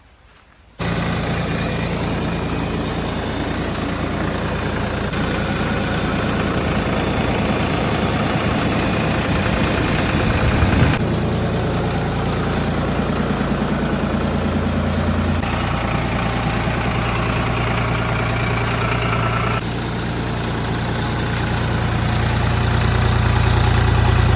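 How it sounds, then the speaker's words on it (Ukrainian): A DTZ 5354 three-cylinder tractor engine idling steadily up close, a continuous low mechanical rumble with slight changes in tone partway through and a gradual rise at the end, with no voices. "Демонструю роботу двигуна та світлових приладів."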